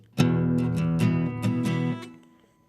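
A guitar chord strummed three times in quick succession, then left ringing openly and fading out, clear and close with no talking.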